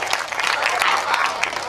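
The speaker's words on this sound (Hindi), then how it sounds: "एक बार जोरदार तालियां इस पहले कवि को।" Loud, dense applause from a crowd at a Hindi poetry recital, a steady wash of many hands clapping together throughout.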